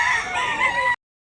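A rooster at Mantalungon in Cebu gives one loud, close crow lasting about a second and ending abruptly, with no other sound around it.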